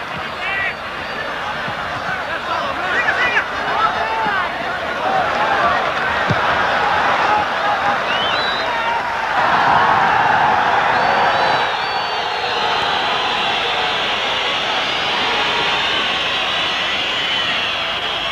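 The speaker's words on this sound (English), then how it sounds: "Capacity crowd here, and as you can hear all around us, making a tremendous amount of noise." A capacity crowd fills a football stadium at a 1989 international match between Israel and Colombia, producing a loud, continuous roar of cheering and whistles throughout, with a commentator speaking over it.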